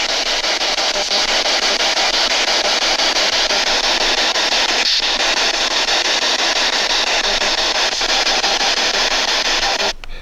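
Continuous loud hissing radio static sweeps steadily throughout, with faint brief clicks breaking through now and then as the scan runs on.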